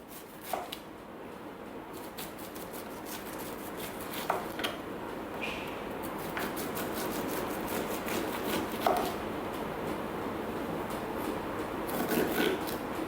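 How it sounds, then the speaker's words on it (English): A knife cuts corn kernels off the cob, producing soft repeated scraping chops at an irregular pace against a steady low background hiss. "So I'm just going to chop it off."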